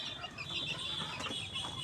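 A native country hen clucks close by, a few short, throaty clucks over a brief moment with a faint farmyard hum behind.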